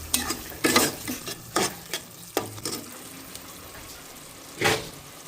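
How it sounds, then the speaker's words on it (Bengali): Prawn bhuna cooks in a pot with a low sizzle, broken by several loud scraping stirs of a spoon against the metal at irregular intervals, close to the listener. "এই যে দেখেন কি রান্না করছি, চিংড়ি ভুনা।"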